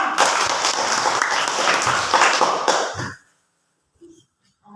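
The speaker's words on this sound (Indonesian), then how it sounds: "Tepuk tangan untuk kelompok 2" A school class claps for a group of classmates, loud and close. Brisk, dense clapping runs for about three seconds, then stops abruptly, leaving near silence with a few faint soft knocks.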